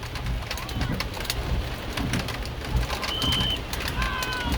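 Pouring rain drenches an outdoor football practice, a loud dense hiss of drops hitting surfaces throughout, with birds chirping briefly and faint voices in the background.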